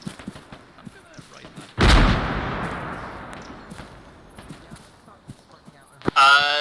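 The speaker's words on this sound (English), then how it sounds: "it's either a tank or a BMP 1 shooting at us" Main-gun fire from a tank or BMP-1 in a military video game, two heavy booms several seconds apart with a long rolling decay after the first, among faint footsteps and talking voices.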